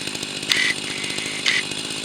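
A Jobu Tiger or Husqvarna 44 chainsaw cuts wood nearby, its engine running loud and steady with two brief higher-pitched revving surges about a second apart.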